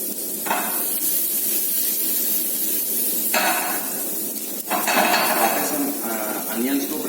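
Chopped onions and mushrooms sauté in oil in a pan, a steady close hiss and sizzle broken by a few sharp clinks of utensil against metal, with someone talking over it.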